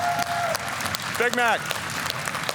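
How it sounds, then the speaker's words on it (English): A loud crowd roars and applauds steadily throughout, with a voice briefly speaking over the din and a short whistle-like sweep rising through it. "the crowd is so loud"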